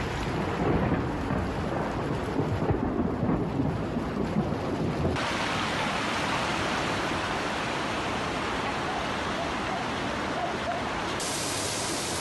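Heavy rainstorm with thunder in the Apuseni Mountains, a dense, loud roar of pouring rain and rumbling thunder that fills the whole stretch, with a gusty, wind-buffeted texture throughout.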